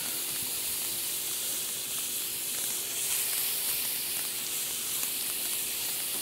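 Cuttlefish strips sizzle in rendered lardo fat on a hot plancha, a steady, dense frying hiss that runs unbroken and close throughout.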